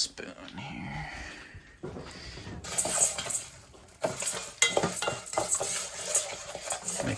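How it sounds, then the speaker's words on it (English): A spoon scraping and stirring rice with butter and turmeric in a pan, irregular clinks and scrapes with a soft sizzle, a person talking over it. "Mix in the butter with the rice and the turmeric."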